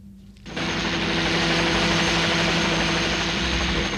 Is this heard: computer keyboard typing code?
no